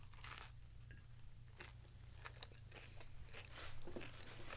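Crunchy tortilla tacos filled with beans, Spanish rice and Fritos being bitten and chewed, a quiet series of close crisp crunches over a low steady hum, with no talking.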